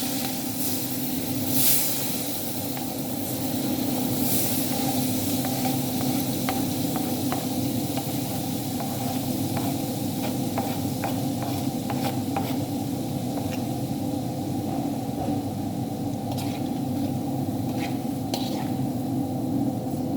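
Onions fry in hot oil with flour, giving a steady, close sizzling hiss with scattered pops, almost unbroken throughout.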